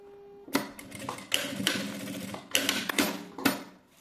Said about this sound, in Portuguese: e passo a costura